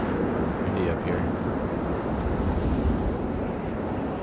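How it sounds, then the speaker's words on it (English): Wind blows in the video game Journey, a loud, gusty roar of rushing air filling the whole span, with a person talking briefly over it. "Windy up here."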